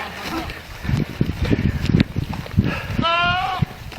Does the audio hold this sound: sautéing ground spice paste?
no